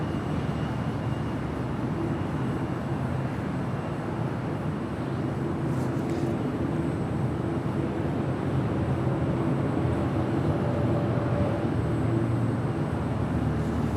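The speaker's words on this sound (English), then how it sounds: "this is Aeromexico, flight 647 on the 787-8 Dreamliner" Aeromexico Boeing 787-8 Dreamliner at Los Angeles International Airport, a steady broadband jet roar that holds evenly throughout, moderately loud with no talk over it.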